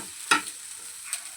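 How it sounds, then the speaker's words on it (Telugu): Chopped onions from two large bulbs and curry leaves fry in a pan with a steady hiss. A sharp stirring clack cuts in near the start and a fainter one follows, with no talking. "వీటినైతే కాస్త కలర్ వచ్చే వరకు అయితే వేయించుకోవాలండి."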